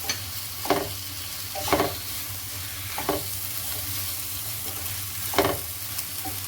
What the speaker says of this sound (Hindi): अब इस मसाले को अच्छी तरह से भूनना है